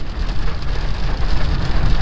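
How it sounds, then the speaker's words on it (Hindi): Heavy rain pours steadily in Delhi, a loud, dense hiss of drops hitting surfaces close by, with no voices. "निकलने के बाद से यार बारिश और ज़्यादा तेज़ हो गई है"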